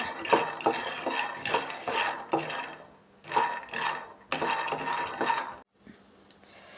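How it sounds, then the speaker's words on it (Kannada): Peanuts dry-roasting in a pan over a low flame, stirred with a metal spoon, giving close, busy rattling and scraping scratches in bursts with short pauses between strokes. "ಕಡಿಮೆ ಉರಿಯಲ್ಲಿ ಈ ಥರ ನೀಟಾಗಿ ಕೆಂಪಿಗೆ ಹುರ್ಕೊಬೇಕು ಚಟ್ನಿ ಪುಡಿ ಮಾಡೋದಕ್ಕೆ"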